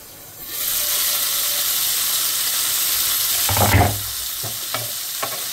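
Loud, steady sizzling of cauliflower frying in oil on low gas, with a few utensil stirs and scrapes toward the end.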